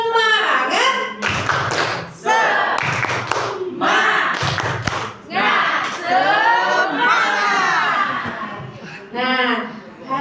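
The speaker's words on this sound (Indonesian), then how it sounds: "Tepuk semangat." A classroom of students performs a rhythmic spirit clap, sharp group claps and desk thumps in patterned bursts, alternating with a teacher's voice and the class chanting along.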